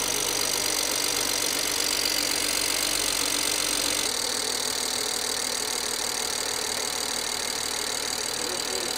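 A BMW 535i E60 engine idles after a valve cover replacement, a steady close mechanical hum and whir with a slight change in tone partway through.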